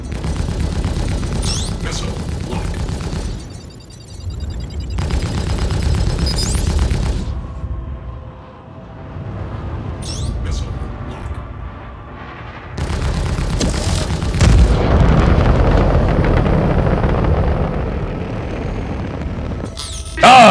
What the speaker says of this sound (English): Yeah, that's the torpedoes we're firing.